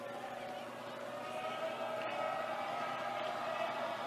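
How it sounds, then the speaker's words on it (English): Steady crowd roar fills a high school boys' basketball gym, Brush at Weld Central, during a tense free throw: a dense, continuous wash of cheering and noise, loud and unbroken, with an announcer's voice faintly mixed in. "Brush crowd making noise."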